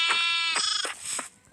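A video game sheep bleats in a few short, wavering cries close by, each one quickly fading, with no talking.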